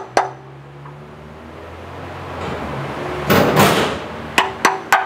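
A hammer taps a socket onto a part during a 2018 Hyundai Tucson repair, with a single knock at the start, a louder scrape in the middle, then three quick close taps at the end.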